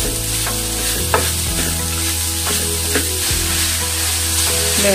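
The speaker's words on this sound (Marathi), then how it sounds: "बघा, आता आपल्याला याच्यामध्ये गूळ घालून घ्यायचा आहे। आपल्याला हे चांगलं मिक्स करून घेऊ।" Jaggery is stirred into a wheat flour modak filling in a pan, giving a steady sizzle with repeated scraping strokes of the spoon, close and continuous, with no talking.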